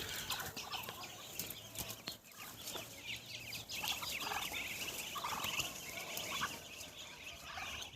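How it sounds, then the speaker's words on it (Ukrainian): Farmyard ducks walk home together across a village yard, with a busy, continuous run of overlapping clucking and gobbling calls at close range and no talk. "дивіться, які самостійні у мене качки"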